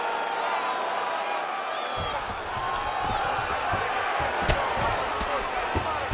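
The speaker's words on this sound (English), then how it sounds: "the crowd pops in appreciation as the fighters work their way back to the feet" A UFC arena crowd roaring and cheering in appreciation during a fight, with sustained crowd noise, scattered sharp thuds and claps, and commentary talk running over it.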